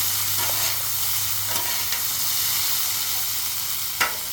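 Rice cooks on a hot Blackstone flat-top griddle for chicken hibachi, giving a steady, close sizzle with a few light scrapes and clicks, the loudest near the end.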